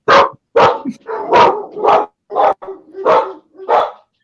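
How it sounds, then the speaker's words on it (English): Dogs bark in a rapid series of about seven sharp, loud barks close by, with short gaps between them and a brief whimpering yip mixed in. "Somebody's dogs are barking."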